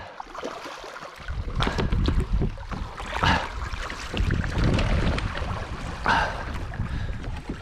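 A kayak runs down river rapids on the Mary River, with rushing, churning water and wind buffeting the microphone, in loud surging bursts after a quieter opening.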